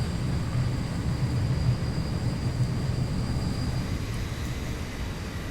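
A Boeing 737-900ER in the X-Plane 11 flight simulator produces a steady, loud low engine roar with a faint high whine, unbroken and without any voices.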